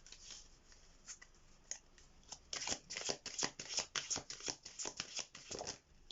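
Tarot message cards are shuffled by hand in quick, papery riffles that start sparse and quiet and build into dense, louder bursts of flicking and slapping.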